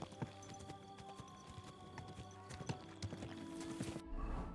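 Horse hooves pound in Kingdom Come: Deliverance 2 over a busy game soundscape, scattered thuds mixed with music tones and ambient noise, ending in a rushing surge.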